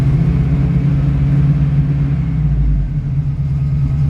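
A 1949 Ford F1 pickup's engine idles steadily with a deep, constant rumble, loud and close, with no voices; the carburetor is out of adjustment.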